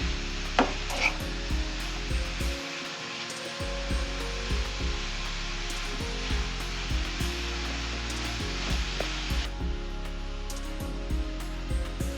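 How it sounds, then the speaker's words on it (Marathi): Grated carrots for gajar halwa sauté in a pan over a high flame, giving a steady loud sizzle with repeated scraping stirs throughout. "गॅसची फ्लेम हायच ठेवून हे परतून घ्यायचं आहे"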